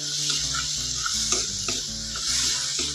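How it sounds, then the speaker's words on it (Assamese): Butter paneer masala ingredients fry in a pan with a steady, close sizzle and the occasional scrape of stirring, with no one speaking. "আৰু অলপ সময় মই ভাজি ল'ম"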